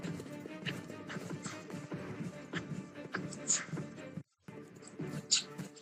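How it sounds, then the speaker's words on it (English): AI-generated sound effect: rhythmic clip-clop of horse hooves at a steady trotting pace, with a brief whinny and a short gap of silence near the end. "the sound effects of the hoofs, all good, I think"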